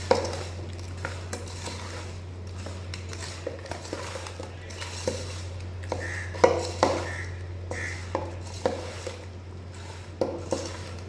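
Chapala pulusu ingredients being mixed with oil in a dish, a close, continuous wet stirring with repeated soft clicks and taps of utensil against the container over a low steady hum.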